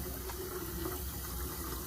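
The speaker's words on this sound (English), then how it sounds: "I'm just going to rinse my hands down" Tap water runs steadily over hands being rinsed during handwashing, a soft continuous splashing stream at moderate level for the whole short stretch, with no voices.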